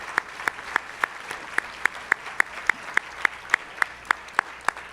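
Audience at a YMCA annual celebration clapping in a steady, evenly spaced rhythm, the crisp claps fairly faint over a quiet room.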